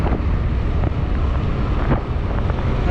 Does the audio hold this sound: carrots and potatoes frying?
no